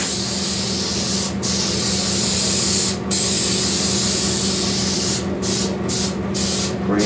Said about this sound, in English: I'll spray this. Make sure I get in good where I left off.